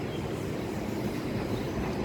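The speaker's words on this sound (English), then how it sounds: "Look at that, the tram again." A tram in Surfers Paradise on the Gold Coast rumbles past, a steady low roar with a broad hiss that stays at an even level the whole time.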